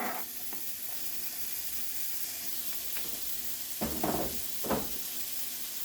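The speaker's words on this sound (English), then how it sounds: "Time to cook the bacon" Bacon sizzles steadily in a hot pan, a dense close hiss with a few louder crackling pops near the end and no voices.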